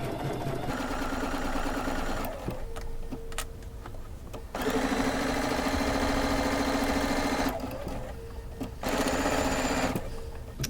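A sewing machine runs in steady bursts while stitching a quilt block seam, a loud continuous motor hum with rapid needle chatter, pausing briefly twice before resuming, close up with no talking.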